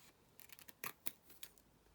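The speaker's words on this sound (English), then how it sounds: "And then I'm just going to trim this up" Scissors snip through a hot-glued craft piece, giving a handful of quick, light cuts in an uneven rhythm, close up and fairly quiet with no talk.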